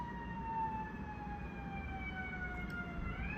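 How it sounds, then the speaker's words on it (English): Emergency vehicle sirens wail in the distance, steady tones slowly shifting in pitch over a constant low background rumble, with no talking. "How fitting that I now have sirens."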